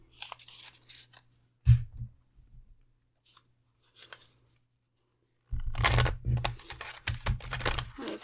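A deck of tarot cards is shuffled close up in two bursts of crisp riffling and slapping, a short one early on and a longer one after a quiet pause.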